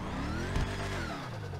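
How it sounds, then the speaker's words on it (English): A Dodge Charger in the GTA V video game, fitted with a different turbo engine sound, gives a loud sustained engine roar that bumps briefly, then settles and tails off. No one talks. "I have a Dodge Charger saved that's got a different engine sound to it"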